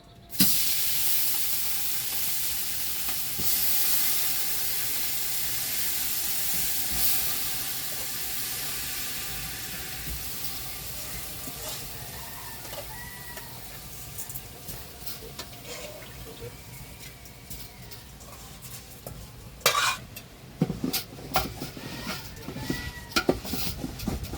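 Gobindobhog rice added to hot oil in a pan for basanti pulao gives a loud, steady, hissing sizzle that gradually softens. Scattered clicks and scrapes from stirring follow, growing busier toward the end.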